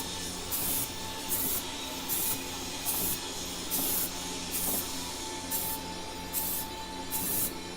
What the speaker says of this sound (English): Careful, you're getting a lot of overspray this way.